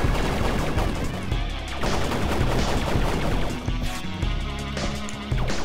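Rapid gunfire in the indie action platformer Bionic Tadpole, a dense, steady stream of shots going almost nonstop beneath busy game music and effects.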